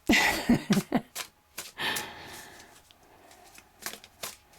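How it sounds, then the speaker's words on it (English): Quick bursts of large tarot cards being riffled and shuffled close by, several short rustling flurries in a row with pauses between, no talking. "These cards are really big to shuffle."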